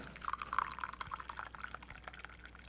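French press coffee pours into a cup in a light, bubbling trickle with small drips and glassy splashes, close and fairly quiet, continuing for a few seconds.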